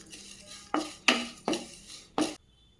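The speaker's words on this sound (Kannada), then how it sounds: "ಎಲ್ಲವನ್ನು ನೀಟಾಗಿ ರೋಸ್ಟ್ ಮಾಡ್ಕೊಂಡ್ಬಿಡೋಣ" Dry poha roasted in a pan with onion and turmeric, a utensil scraping and stirring in four distinct strokes, close and moderately loud, with no talk.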